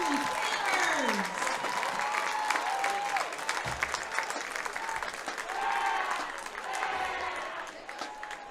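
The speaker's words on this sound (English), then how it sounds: "Let's have another round of applause for the Bloomsburg area Marching Steelers." Sustained applause from a stadium crowd at a high school football game, Loyalsock vs. Bloomsburg, honoring the Bloomsburg area Marching Steelers band; steady clapping fills the whole stretch while an announcer's voice echoes over the crowd.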